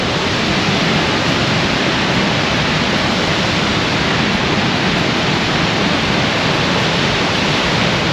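Godafoss Waterfall near Akureyri, Iceland, roars in a constant, dense wash of noise, loud and close, with no voices or breaks.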